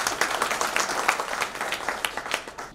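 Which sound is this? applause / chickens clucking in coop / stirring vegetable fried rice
applause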